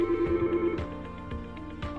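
A Yealink T58A desk phone ringing for an incoming call, a repeating electronic ring pattern with steady tonal pulses recurring every half second or so, close and moderately loud with no talk.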